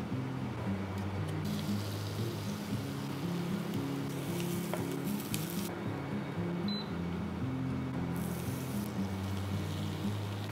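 Mushrooms frying in a pan on an induction hob for a green bean and peas casserole, a steady close sizzle with faint background hum and a few brief clicks.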